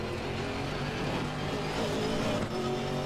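Race car engine droning steadily as it leaves the pit lane at Spa in Assetto Corsa Competizione, a moderate, even hum with slight pitch shifts and no speech.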